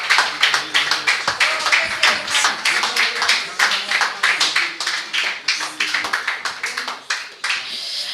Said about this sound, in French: Plus grand applaudissement.